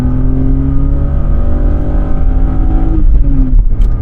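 A BMW 7 Series E38 accelerates hard, its engine note climbing steadily under load before a brief dip at a gear change and a renewed pull, loud and close with road noise underneath.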